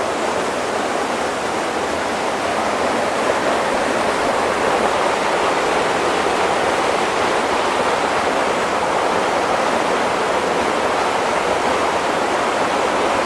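Stream water near Crianlarich rushes steadily and loudly at close range, a dense unbroken hiss and churn with no pauses and no voices.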